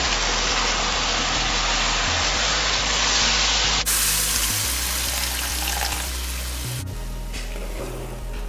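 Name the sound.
coconut milk added to Bora curry in the pot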